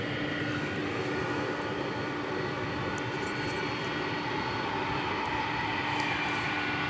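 A UPS MD-11 tri-jet airliner at Dallas Fort Worth Airport gives off a steady, even engine roar with a faint tonal hum, continuous and fairly distant throughout.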